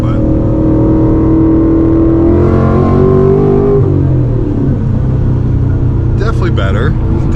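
A car running an E30 ethanol tune accelerates hard in third gear, its engine loud and close with a rising drone and a rough rumble throughout.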